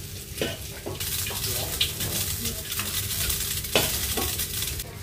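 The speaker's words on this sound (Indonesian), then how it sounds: "Dan ini selesai buat goreng tahu dan nyeplok telur." Tofu and eggs fry in a pan with a steady, close sizzle and crackle, broken by a few scraping stirs of the utensil, in a home kitchen.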